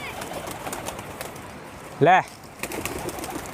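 A Rampuri pigeon gives one clear, close coo midway, standing out over quiet ambient noise, with someone speaking briefly in the background.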